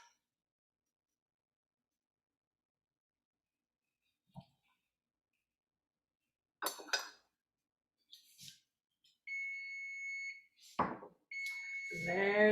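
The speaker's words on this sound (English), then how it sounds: "There's my fish timer." A kitchen timer goes off while fish cooks during a community sauce-making class, a steady electronic beeping tone lasting a couple of seconds after a few clicks and brief sounds, with faint voices nearby.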